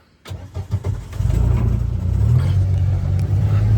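A farm vehicle's engine cranks and catches after a brief silence, then settles into a steady, loud, close idle with a low rumbling tone.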